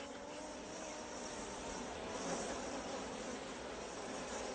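Bees buzz in a continuous, even drone in a beekeeper's garden where honey is made the traditional way, the hum fairly quiet and steady with no voices.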